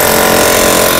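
A Makita 17 mm demolition hammer chisels into concrete, a very loud, close, continuous rapid hammering buzz with no pause.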